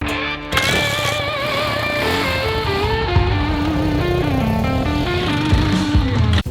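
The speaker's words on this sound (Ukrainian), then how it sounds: "верхи на пердячому мотоциклі посеред мирного міста" A loud motorcycle with straight-pipe exhaust revs and roars close by in a city, its engine note rising and falling in pitch through a continuous harsh, buzzing blare.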